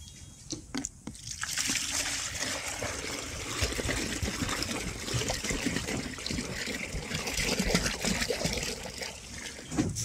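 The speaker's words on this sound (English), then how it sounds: "I've got a bucket, I've got some water. I'm going to put some in it" Water pours and splashes into a bucket in a steady, close stream, a few clattering knocks at the start before the flow settles.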